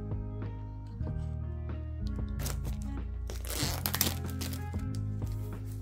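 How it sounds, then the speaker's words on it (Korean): Plastic wrap is peeled off a DJI Osmo Pocket 3 box, giving a run of close crinkling and tearing crackles over a steady background hum, louder in the middle. "비닐을 벗겨낸 상태입니다."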